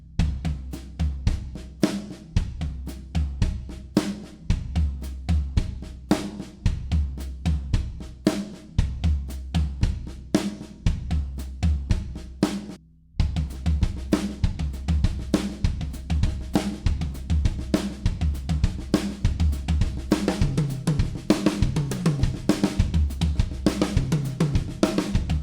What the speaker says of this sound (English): when you're ready, play that paradiddle pattern over it, and it'll sound like this